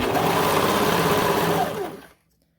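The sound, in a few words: serger overlocking a leotard leg seam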